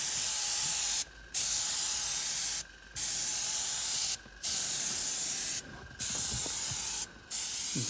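Clear coat lacquer sealer sprays from a spray gun onto a Volvo leather seat in five steady hissing bursts of about a second each, separated by short silent pauses, close and loud with no voices.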